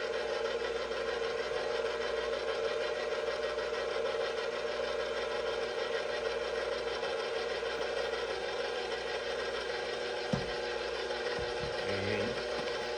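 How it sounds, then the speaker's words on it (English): A stand mixer runs steadily through biscotti dough as flour is added slowly, giving a constant close motor drone with an even whirring texture and a brief knock near the end. "We're gonna start the mixer again"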